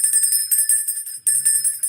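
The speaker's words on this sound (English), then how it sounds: "Ringing my bell quick." A small bell rung quickly and repeatedly, with bright, even strikes in a fast rhythm, close and loud, broken by one brief pause midway.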